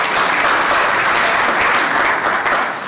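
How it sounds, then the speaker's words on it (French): Applause at a civil wedding ceremony in a registry hall, a close, loud, dense burst of many hands clapping steadily for about three seconds without talk. "Applaudissez pour nous."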